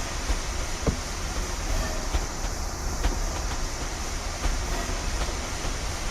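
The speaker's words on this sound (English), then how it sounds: "Always interesting watching the trains coming off the right-of-way here." Metro-North trains roll past in Train Simulator 2019 as a steady, broad rushing rumble, moderately loud, with faint rhythmic clicks of wheels over track joints scattered through it.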